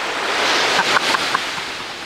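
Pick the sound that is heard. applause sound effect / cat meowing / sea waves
sea waves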